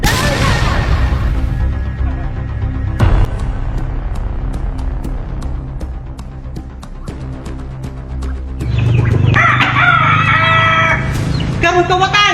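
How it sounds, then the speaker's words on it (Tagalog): A red rooster crows loudly near the end, after a stretch of sharp clicking and a person speaking. "Kini akong manok na po. Akong pulang manok."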